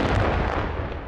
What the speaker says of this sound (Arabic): تفجير دبابة للجيش الاسدي حرقت انحرقت